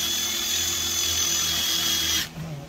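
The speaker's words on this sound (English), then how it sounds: "I just take the drill, the Phillips head screwdriver," A power drill fitted with a Phillips bit whines steadily at high pitch while backing screws out of a microwave during a scrap teardown, running close and loud before cutting off abruptly near the end.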